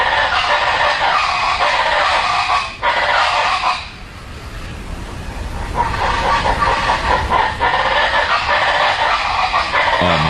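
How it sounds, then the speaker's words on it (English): A bird's call plays on a radio show, loud, harsh, repeated shrieking cries in rapid bursts with a brief pause midway, filling the whole stretch without talk. "Here's what the bird sounds like."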